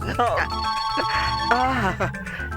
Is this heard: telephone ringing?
yes